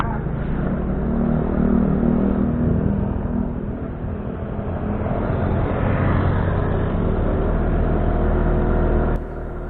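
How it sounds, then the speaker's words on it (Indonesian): Steady running drone of a Suzuki Address 110 FI scooter engine, five years old, holding an even idle-like hum close by before cutting down near the end. "Sekuat apa sih motor yang saya miliki ini?"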